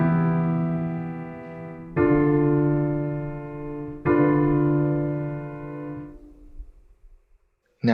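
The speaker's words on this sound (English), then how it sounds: "Have a listen to these 3 chords, which are in E Phrygian" Three sustained chords in E Phrygian ring out one after another, each struck cleanly and left to decay for about two seconds, the last fading to near silence.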